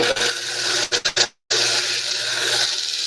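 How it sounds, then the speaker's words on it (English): Sandpaper worked up and down by hand on a wooden tobacco pipe with light pressure, a steady dry rasping scrape that breaks into a few short strokes and a brief pause before continuing. "I'm just letting the sandpaper do its work."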